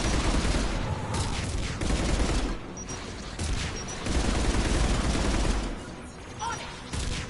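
Anti-aircraft guns firing in a video game, dense continuous bursts of rapid gunfire rolling in loud waves with short lulls, close and heavy.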